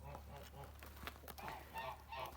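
Geese honk repeatedly in a loose chorus, several birds calling over one another at moderate distance against a steady low hum.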